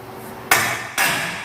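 A seized ball joint nut on a Ford F250 front suspension breaks loose under a wrench extended with a cheater pipe, giving two sharp, loud metallic cracks about half a second apart, each trailing into a brief grinding release.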